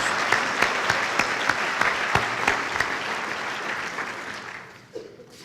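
Audience applause at a Chamber of Commerce annual meeting, thanking table sponsors: sustained, fairly loud clapping from a large seated crowd that fades out near the end.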